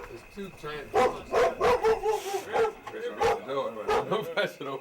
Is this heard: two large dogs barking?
yes